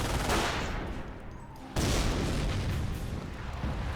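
Howitzer artillery in Company of Heroes fires in a dense, continuous barrage of booming shots and blasts, loud and close, with a sharp new volley hitting midway.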